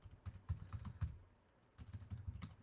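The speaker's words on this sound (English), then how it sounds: "Just typing in like certain keywords," Quiet, close keystrokes on a computer keyboard while keywords are typed: two short bursts of rapid clicking separated by a brief pause, with no speech.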